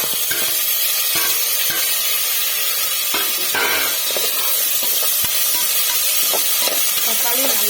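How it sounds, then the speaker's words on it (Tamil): Tomatoes sauté in oil for chana biryani, a continuous close sizzle and hiss broken by repeated sharp clicks of a spoon stirring against the pan. "தக்காளி நல்லா வதங்கட்டும்."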